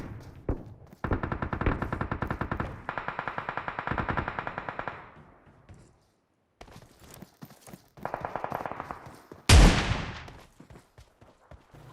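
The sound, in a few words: shotgun gunfire in a battle royale video game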